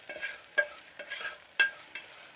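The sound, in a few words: stirring turmeric powder into tempered oil in a pot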